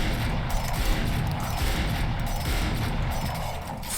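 Rapid gunfire from a fast-firing weapon in Valorant, a dense continuous stream of loud shots filling the whole stretch with gritty, mechanical clatter.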